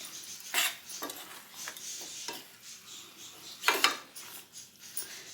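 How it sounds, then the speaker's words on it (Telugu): Chicken masala and clove powder are stirred in a pan, with soft scraping and several sharp metallic clinks of a spoon against the pan, close and irregular. "చికెన్ మసాలా, కొంచెం చెక్క లవంగాల పౌడరు. దీన్ని ఇలా బాగా కలుపుకోవాలి."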